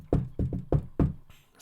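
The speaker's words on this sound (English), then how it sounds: "Twilight knocked on the door." Knuckles rap on a door in five sharp, close knocks in a slightly uneven rhythm, with a brief pause between groups and no voices.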